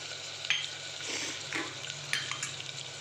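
Chickpeas, green peas and moth beans get stirred in a hot pot, a close sizzling hiss broken by a few scraping, clinking spoon strokes, with no talk.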